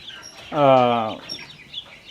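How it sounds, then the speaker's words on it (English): A single drawn-out cluck or squawk from a chicken, close by, with quiet farmyard background before and after. "there's a gang of ducks and a gang of chickens"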